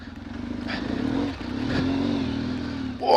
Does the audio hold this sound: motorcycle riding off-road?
yes